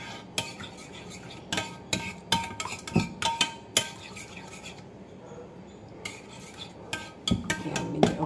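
A spoon stirs turmeric into a coconut cream sauce in a pot. Irregular metallic clinks and scrapes repeat against the cookware over a soft, steady background.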